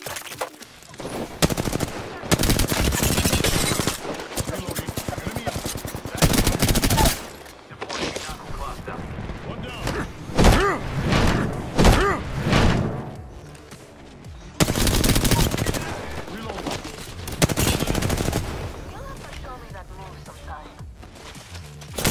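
Apex Legends gameplay with heavy gunfire: rapid automatic bursts and fusillades, loud and close, broken by brief pauses, with a voice talking over parts of it.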